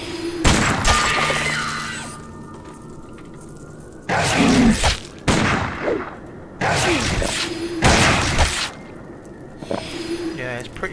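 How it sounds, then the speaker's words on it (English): Frost bombs exploding in a video game, several loud bursting whooshes with icy shattering tails spaced a second or two apart, over game ambience with someone talking. "Oh yeah, we've got frost bombs."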